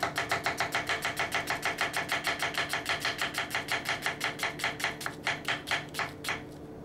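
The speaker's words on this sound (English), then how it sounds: "first thing we're gonna do is just a quick thin slice" Kitchen knife thinly slicing an onion on a cutting board, a fast, steady run of crisp chopping taps, close and regular, slowing slightly near the end.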